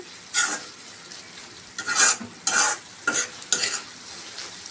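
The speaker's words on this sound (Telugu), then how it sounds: "ధనియాల పొడి వేసుకున్నాము చూడండి కొద్దిగా ధనియాల పొడి సగం స్పూన్ వేసినాను ఇప్పుడు దీన్ని బాగా కలుపుకున్నాము" Coriander powder being stirred into a pan of ponnaganti greens curry, with four or five distinct scraping sweeps of the spoon over a soft, steady sizzle, close and moderately loud, no talking.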